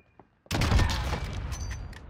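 Rapid video game gunfire bursts in a loud, dense volley that starts abruptly and carries on without a break, with no talk over it.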